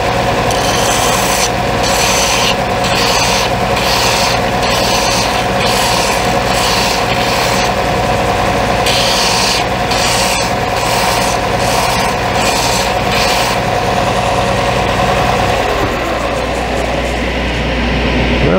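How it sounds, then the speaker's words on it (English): An electric sander grinds down the oversized ends of a wooden handle, a loud, steady, continuous rasping whir that runs unbroken for the whole stretch with no speech. "we're going to use the sander to, if you look at this, the ends are bigger than the rest of it. So I'm going to sand those down a little bit"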